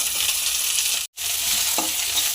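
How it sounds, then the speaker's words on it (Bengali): Susni greens sizzle steadily in hot oil with onion, chili and garlic paste while being stirred, a constant close frying hiss broken by one brief gap. "শাকটা দিয়ে লাড়াচাড়া করে ভেজে নেব"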